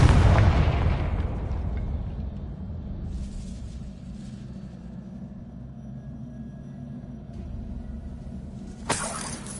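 A Confringo spell explodes in Hogwarts Legacy with a loud, deep blast at the start that slowly rumbles away, followed by a brief sharp crackle near the end.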